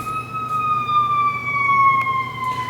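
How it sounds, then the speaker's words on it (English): A loud ambulance siren wails nearby, its tone sliding slowly downward in one long continuous sweep. "that's the ambulance"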